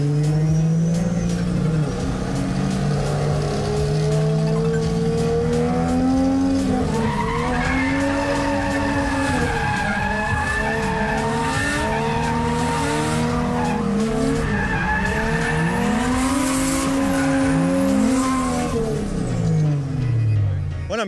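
Drift cars running a tandem, one entering corners on the handbrake, with loud continuous tire squeal and skidding over revving engines that rise and fall throughout, close and dense.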